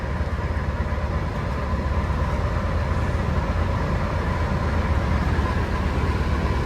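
Inside a petrol Toyota Hiace Grand Cabin van, the air conditioner runs with a steady, even roar over the idling engine, a constant broadband drone with no talk.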